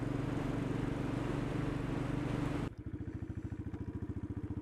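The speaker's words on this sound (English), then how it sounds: "sometimes you have to work that big single cylinder to make it sing" A 2016 Royal Enfield Bullet 500 single-cylinder motorcycle engine rumbles loudly with a steady low throb while riding, then cuts to a clearer, slower rhythmic thump of individual firing pulses, with no talking.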